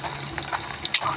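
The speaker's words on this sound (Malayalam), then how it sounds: "എന്നിട്ട് ഞാൻ ഫ്യൂവൽ ഒഴിക്കുന്നുണ്ട്" Fuel pouring in the Roblox game The Dusty Trip sounds as a short, close run of splashing, gurgling liquid, with a brief louder gush near the end.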